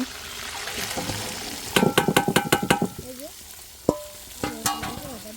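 Sliced onions drop into hot oil in a pan with a loud burst of sizzling, followed by quick rhythmic stirring clatters and a few separate scrapes, close by; a voice speaks faintly beneath.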